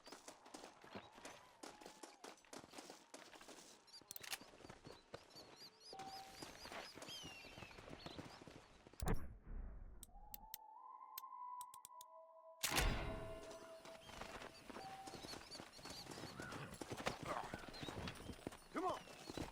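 Horse hooves clip-clop in a steady trotting rhythm in the video game Red Dead Redemption, with a voice talking over them and a brief musical interlude midway.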